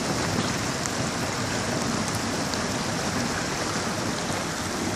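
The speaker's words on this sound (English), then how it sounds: "That's rainwater pouring into our rain barrels." Rainwater pours steadily into plumbed rain barrels during the first rain, a loud, continuous broadband rush and patter of water heard up close without any voices.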